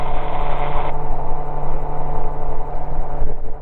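A small aircraft engine drones loudly and steadily at climb power as it lifts off a mowed grass airstrip, a constant close buzzing hum with no pauses.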